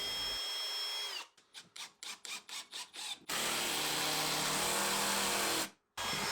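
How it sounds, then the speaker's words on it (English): A power drill drives screws into a wooden outdoor sofa frame with a series of short, close bursts of whirring in a quick rhythm, followed by a longer sustained run of drilling that stops briefly before a last burst. "I can glue and assemble these with screws too"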